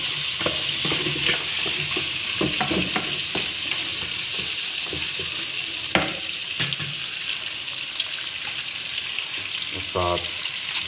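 Steady sizzling and crackling of ginger garlic paste frying in a hot pan, with occasional scraping stirs and clinks, close and continuous.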